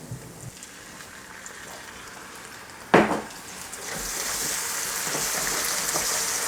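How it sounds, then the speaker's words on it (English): Black beans being stirred in a pan while cooking a vegan tamale filling, a soft steady sizzle and scrape with one sharp clack of a utensil against the pan midway, the frying hiss growing louder toward the end. "While we're stirring the beans"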